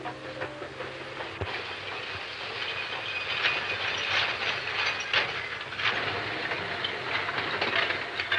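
A train rolls into a station in a 1939 film scene, a continuous rumbling clatter of railroad cars with mechanical clanks and rattles, fairly loud and steady, with no voices.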